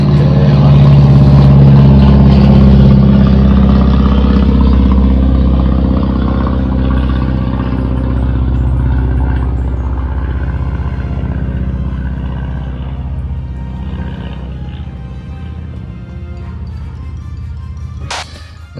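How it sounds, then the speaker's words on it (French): A small helicopter with a loud, low rumbling engine and throbbing drone passes close overhead, then slowly fades into the distance, with a sharp click at the end. "Attendez, il y a un petit hélicoptère."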